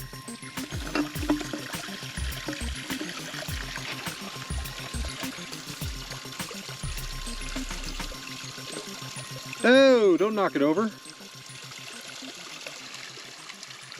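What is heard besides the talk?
water stream flowing on mountain trail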